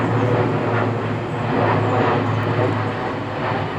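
A fixed-wing airliner passes overhead on its approach into Birmingham Airport, heard near Erdington as a steady, loud broadband engine roar that swells slightly and holds throughout with no talking.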